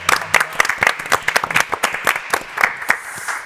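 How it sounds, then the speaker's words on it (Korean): A church congregation applauds together in a burst of scattered, overlapping claps that stays fairly loud and steady throughout, with no talk over it. "우리 한번 박수해 주시기 바랍니다."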